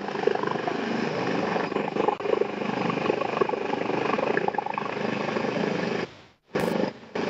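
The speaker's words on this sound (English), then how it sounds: "That is the presidential chopper. There it comes." A presidential helicopter arrives at a Nigerian state departure event, a steady, loud broadband rotor and engine drone holding for about six seconds before cutting out abruptly.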